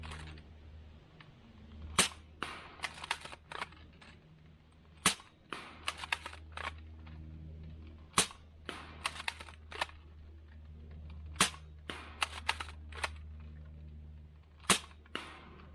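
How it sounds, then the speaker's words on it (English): Airsoft Scar rifle fitted with a T238 tracer unit firing single shots outdoors, sharp snappy cracks spaced irregularly, sometimes in quick pairs, over a low steady hum. "I fired 15 shots and scored 15 times"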